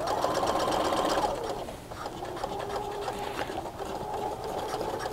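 A sewing machine stitches a pant hem, climbing over a thick seam; the steady motor whir runs loud and close throughout, easing slightly as the needle works across the bulky join.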